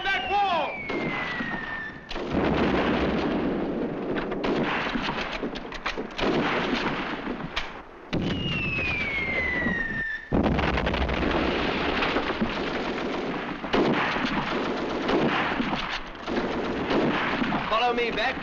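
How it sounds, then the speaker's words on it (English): Gunfire and artillery in an old colorized World War II drama battle scene, with sharp shots and booming blasts mixed with whistling shells, continuous loud combat noise under shouted voices. "Firing from behind that wall!"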